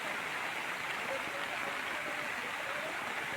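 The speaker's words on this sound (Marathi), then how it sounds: "नदीला आता बऱ्यापैकी पाणी आलेलं आहे" A Konkan river swollen by early monsoon rain flows without pause, a dense even hiss filling the scene at constant loudness.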